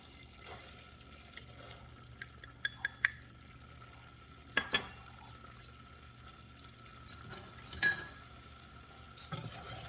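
A spoon stirs flour into melted butter in a pot, making a roux for chicken and wild rice soup: soft, quiet scraping with scattered clinks against the pot and a few sharper knocks, heard close with no talking.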